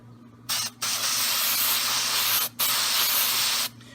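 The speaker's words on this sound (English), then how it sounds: "I'm only going to spray this portion of my stencil" Three long bursts of aerosol spray onto a stencil for etching hiss loudly and close, each lasting over a second, separated by short pauses, over a faint low hum.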